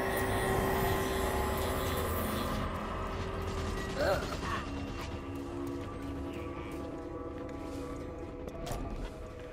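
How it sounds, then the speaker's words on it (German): A heavy door mechanism in the video game Oddworld Soulstorm grinds and ratchets open with metallic creaks and clanks over a droning game background, fairly close and steady. "So, Tür öffnen."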